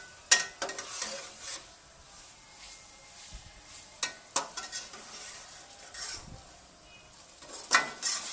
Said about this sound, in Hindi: तमाम चीज़ों को, सारे मसालों के साथ हम छोलिया और आलू को भून लेंगे।